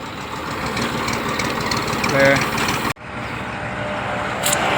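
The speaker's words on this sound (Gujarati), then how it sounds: "અંદર ટ્રેક્ટર જાય છે" A tractor engine runs steadily and loudly nearby, a continuous chugging drone that briefly cuts out, then resumes.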